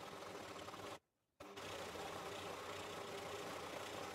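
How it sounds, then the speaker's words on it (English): A serger sewing machine runs fast through fabric scraps, a steady loud mechanical whir that stops abruptly for about half a second, then resumes and continues without talk. "Now I'm going to run this through my serger because I have a serger and I can."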